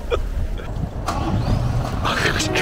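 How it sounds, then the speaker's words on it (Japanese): A new scaffolder's work truck, recovered after being stolen, cranks and its engine catches and runs, rumbling steadily at close range beneath loud talking and exclamations. "エンジンかかりましたよ。"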